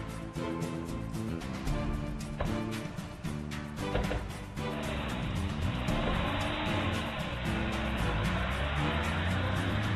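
A car engine runs and revs nearby, with brief tire noise and a steady broadband roar building partway through.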